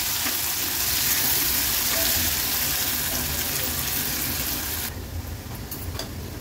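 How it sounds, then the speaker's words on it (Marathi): Onion frying in oil in a pan over a low gas flame, a steady dense sizzle that softens noticeably for the final stretch, close and continuous with no talking. "आता गॅसची फ्लेम लो करते आणि कांदा तेलावर शिजवून घ्यायचा आहे"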